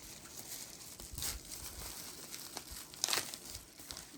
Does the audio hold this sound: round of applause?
no